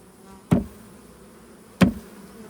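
A close, steady buzzing of honeybees rises as bees are shaken onto the top cover of a small hive, with two sharp knocks from the shaking.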